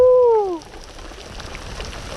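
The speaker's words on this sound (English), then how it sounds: "these are some fat raindrops" Heavy rain with big fat drops falling on Okauchee Lake in Wisconsin during a storm, a dense steady patter close by after a brief tonal squeal at the start.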